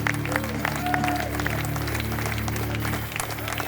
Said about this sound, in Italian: Si prenda il suo applauso.